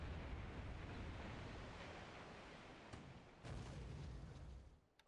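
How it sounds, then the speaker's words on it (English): A warship's deck gun fires in a video game, heard as a broad rumbling blast that fills the whole stretch and then tapers into a fading roar, with a brief dip and a renewed surge before it dies away. "Looks like she's using her deck gun."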